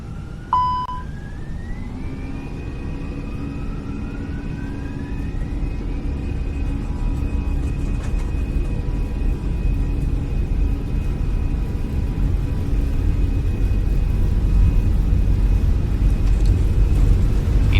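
An Airbus A320 in a flight simulator begins its takeoff roll at Copenhagen Kastrup, with a rising engine whine climbing in pitch over a low, steady rumble that grows louder as it accelerates.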